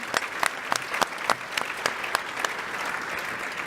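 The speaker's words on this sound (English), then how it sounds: "Let's give them a round of applause." Audience applause at the 2018 Topeka Business Hall of Fame event, heard as a steady wash of many hands with sharper individual claps popping out near and loud across the whole stretch.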